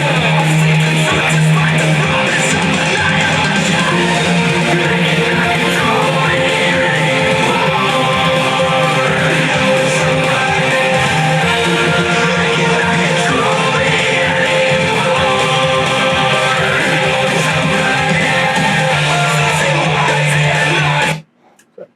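Song recording begun on a Tascam 4-track cassette recorder, played back as a dense full mix of instruments running steadily and loud for about twenty seconds before cutting off abruptly.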